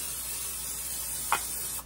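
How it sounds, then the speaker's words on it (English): A steady hissing spray of cooking oil into a skillet before cooking rice, close and continuous, ending with a brief tap. "Spray me some oil."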